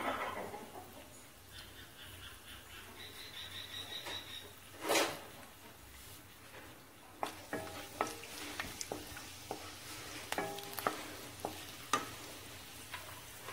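Fennel seeds, a bay leaf and a dried red chili heat in oil in a pan, giving a faint, quiet sizzle with a few sharp clinks and scrapes of stirring and no speech.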